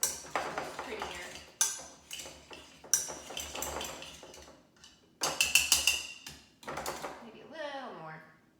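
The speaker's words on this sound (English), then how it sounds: "I've got a potato masher here, and I'm just gonna combine it all." A potato masher works egg yolks in a bowl for deviled eggs, making repeated clinks and scrapes against the dish in uneven bursts, close and fairly loud, with a few sharper knocks.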